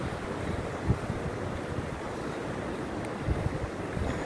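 Waves washing onto a Red Sea beach in Jeddah, a constant roar of surf with wind buffeting the microphone and a few louder gusts.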